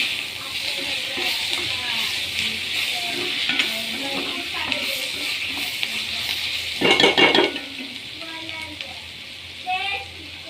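Onion, tomato and chili frying in a pan, a low sizzle under a speaking voice with intermittent clatter of a spoon against the pan.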